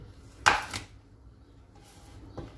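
A knife slices through an apple on a board with one crisp, close cut followed by a shorter second crunch, then near quiet with a faint later tap.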